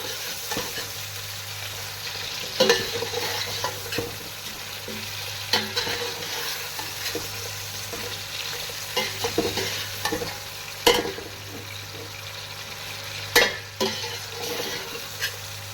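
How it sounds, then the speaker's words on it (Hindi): Mutton sizzling and frying in a pot for yakhni pulao while a spoon stirs and scrapes at irregular intervals, steady hiss underneath throughout. "मटन के साथ मैं इसको फ्राई किया 2 से 3 मिनट"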